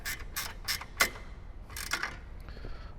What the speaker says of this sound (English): So we'll tighten our bolts back up.